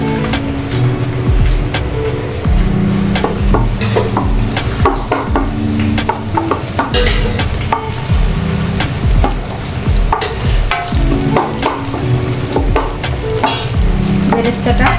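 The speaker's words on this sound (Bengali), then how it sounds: "এবার দিব 1 কাপ পরিমাণের পেঁয়াজ কুচি বেরেস্তা করার জন্য।" A cup of chopped onions fries over high heat in oil for birista for hilsa pulao, producing a loud, dense sizzle with continuous busy scraping and stirring clatter up close, no speech.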